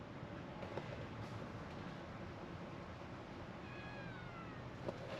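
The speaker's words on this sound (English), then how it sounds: "I don't know if you can hear that meowing every so often" A pet cat meows a couple of times, faint and somewhat distant, inside an old RV being overhauled, over a steady background hiss.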